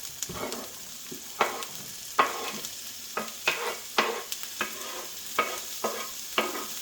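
Pre-cooked sausage, turkey breast and vegetables stirred in a hot pan for an egg scramble, a soft continuous sizzle under a regular series of sharp spatula scrapes and taps, close and without speech.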